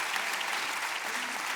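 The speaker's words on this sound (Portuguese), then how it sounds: "Uma salva de palmas para a Paula e para a Alexandra." A conference audience applauds two panel speakers, a brief, steady burst of clapping heard at moderate distance.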